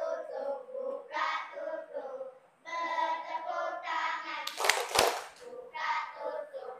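Children in a classroom clap their hands together during an ice-breaking game, a brief sharp burst of clapping in the middle, surrounded by a woman's and children's speech.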